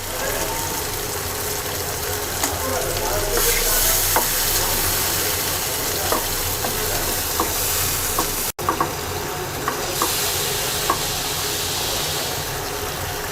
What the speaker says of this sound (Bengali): মাছটাকে 5 মিনিট কষিয়ে নেব।